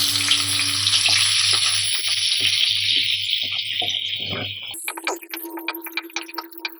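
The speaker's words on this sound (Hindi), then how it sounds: "अब इसमें मैंने यहाँ एक मीडियम साइज़ की प्याज ली है, उसे भी मैं थोड़ा सा सौटे कर लेती हूँ।" A medium-sized onion sautéing with cumin in a pan, a close, continuous sizzle broken by stirring clicks for several seconds, then an abrupt switch to sparser clattering and crackling.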